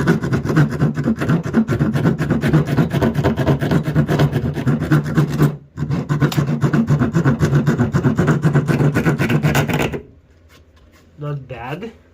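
A Milwaukee M18 cordless multi-tool cuts parts for a quad, giving a loud, steady buzzing rasp that runs for about ten seconds with one brief pause, then stops and leaves a quieter stretch with a short sound near the end.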